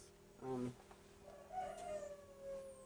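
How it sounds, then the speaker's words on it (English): A young rooster gives a faint, raspy, drawn-out crow that trails off, heard from a distance in a quiet room. "My rooster crowed right when I turned the camera on."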